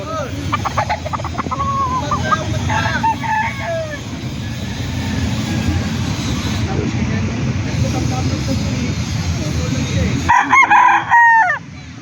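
A rooster crows loudly nearby over a noisy outdoor background with a low engine drone, then a few more clucks and calls near the end.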